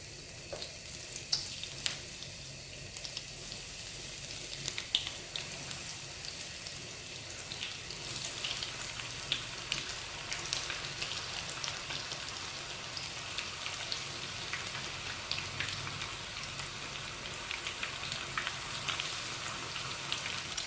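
Battered jumbo shrimp deep frying in hot oil, a dense, continuous crackling sizzle like heavy rain, close and steady for the whole stretch with scattered sharper pops and no voices.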